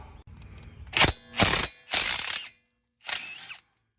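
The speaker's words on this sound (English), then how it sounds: "I'm using my Impact, which is working just wonders." Four loud mechanical bursts from an impact wrench loosening wheel bolts on a 2010 Ford Explorer, each about half a second, with short gaps between them and a quiet pause before the last.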